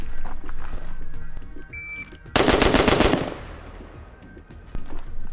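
Rifle with an EOTech sight fired at targets in a quick burst of about six rapid, sharp, loud shots, followed by a fading echo and quiet background.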